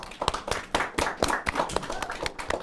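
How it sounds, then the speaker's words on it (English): Seventh-grade students clap for a guest teacher during school morning announcements, a loose, uneven patter of hand claps from a small group, fairly close and moderately loud, with no talk over it. "Everybody give a round of applause for Mr. Planty."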